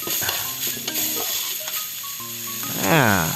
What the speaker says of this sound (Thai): หลังจากนี้ก็ผัดให้หมูของเราสุกเลยนะครับ